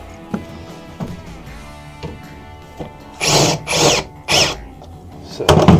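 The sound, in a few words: cordless drill driving self-tapping screws into bus wheel well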